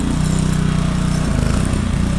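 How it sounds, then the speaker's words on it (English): A gas engine pressure washer runs nearby, a loud steady pulsing engine drone that shifts slightly as the load changes partway through. "We got the pressure washer going."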